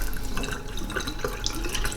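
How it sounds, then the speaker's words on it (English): Water pumped out of a reef aquarium during a water change splashes steadily into a sink, a close, continuous trickling and dripping flow with no talk. "lo and behold, out comes my water."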